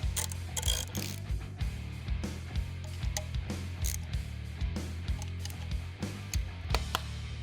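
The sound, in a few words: ratchet tightening bolts on an aluminum case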